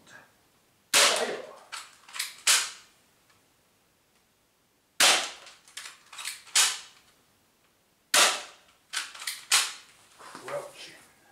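DL60 Socom airsoft pistol fired in three bursts of sharp snapping shots with pauses between, each burst followed by clattering and rattling, close and fairly loud with no talking.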